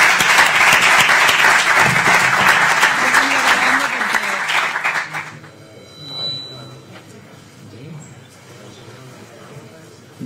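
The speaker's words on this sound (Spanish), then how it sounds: "Venga, aplausos." Applause from a basketball crowd at a EuroBasket 2015 Spain–Serbia game, loud and dense for about five seconds before cutting off, then quieter talk and room sound.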